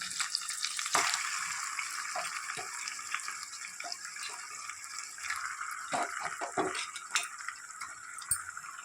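Chicken pieces going into a pan of ginger-garlic paste frying in oil for a village-style curry, giving a continuous soft sizzle with scattered clinks and scrapes, fairly quiet and close with no talking.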